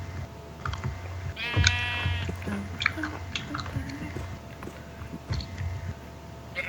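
A sheep in a video game bleats once, a wavering nasal call near the start, amid chewing-like clicks and game noises, with faint voices talking around it.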